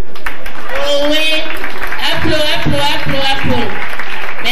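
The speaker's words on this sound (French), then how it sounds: "applaudissez" Audience applause at a children's Christmas tree party, loud dense clapping filling the whole moment with voices and cheering mixed in throughout.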